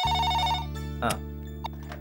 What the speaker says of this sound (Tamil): காயத்ரி, உனக்கு ஃபோன்